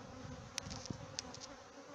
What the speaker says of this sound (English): These bees just a little pissy right now. They're flying around